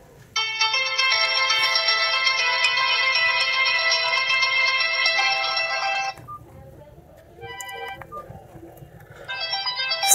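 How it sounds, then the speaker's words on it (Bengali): A ringtone from an amigo ML12 button phone plays loud and steady for about six seconds as a bright, multi-tone electronic melody, then stops, followed by brief quieter electronic beeps and another short burst of tone near the end. "চলুন আমরা ফোনটির যে রিংটোনের সাউন্ড সেটা শুনি"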